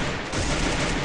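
A single sharp gunshot in a mobile battle-royale shooter game, punchy and dense and filling the short moment at close range with no talk over it.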